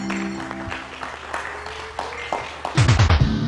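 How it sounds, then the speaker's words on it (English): An audience at a school performance breaks into applause for children on stage, the clapping bursting in loudly near the end after a quieter stretch of mixed noise. "They're shouting and jumping and cheering and clapping because they've just enjoyed seeing their little ones on the"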